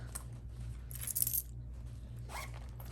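Small loose coins of change clinking and jingling as they are handled, with a brief louder rattle in the middle and softer clinks near the end, close and fairly faint over a low steady hum.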